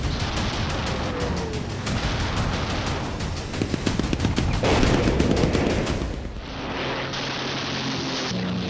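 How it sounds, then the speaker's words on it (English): Bomber machine guns fire in dense, rapid bursts against fighter planes during a wartime air battle, loud and continuous, with rattling volleys over a roaring engine background. "meet the blast of bomber guns"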